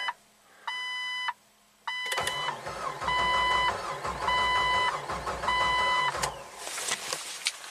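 A Jeep 4.0L engine with fuel and ignition disabled cranks over for about four seconds in an uneven, rhythmic churn, suspected of low compression. Dashboard warning beeps chime before and during the cranking.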